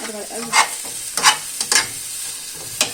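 Onion frying in a pan and being stirred: a steady sizzle with several short scraping strokes from the spoon at irregular intervals, close up and alone.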